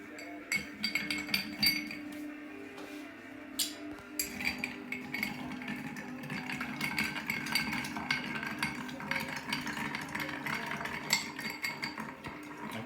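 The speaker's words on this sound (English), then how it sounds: "we are going to stir that with ice" A Manhattan cocktail with Amaro is stirred over ice in a glass, producing a continuous, fairly quiet rattle and clinking of ice cubes against the glass with a spoon, steady throughout.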